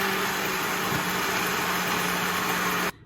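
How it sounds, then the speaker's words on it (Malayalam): A mixer grinder grinds a spice paste for Kerala-style chickpea curry, humming with a steady, loud motor drone for about three seconds before stopping abruptly. "അപ്പം നമുക്കിനി അരച്ചെടുക്കാം"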